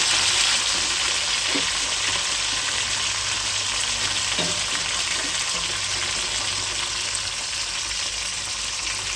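Onion and mint fry in oil in a pan for chicken gravy, giving a dense, continuous close sizzle with a couple of faint stirring knocks underneath.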